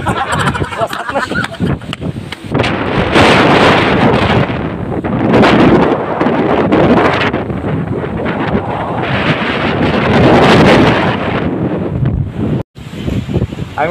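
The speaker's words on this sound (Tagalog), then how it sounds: "Ang lakas talaga ng hangin guys" Strong wind buffets the microphone on Carabao Island, a loud continuous roar that swells and eases, with a person talking intermittently underneath.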